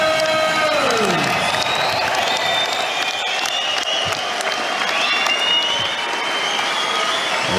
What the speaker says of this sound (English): Ladies and gentlemen, one more round of applause for these 2 warriors.